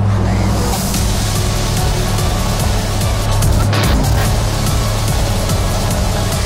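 A motorcycle rides through a tunnel in the Pyrenees near Andorra, its engine and wind roar forming a loud, constant, enclosed rush with a low steady drone throughout.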